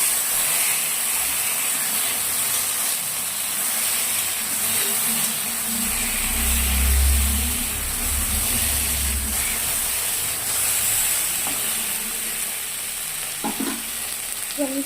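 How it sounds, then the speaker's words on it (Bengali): Boiled potatoes and taro fry in a pan after a tempering, producing a constant, close hissing sizzle with a low rumble midway and a few soft utensil knocks near the end. "এবার গাটি কচু আর আমি সেদ্ধ করা আলুগুলো এর মধ্যে দিয়ে দিলাম। ভালো করে নাড়াচাড়া করে ভেজে নেবো।"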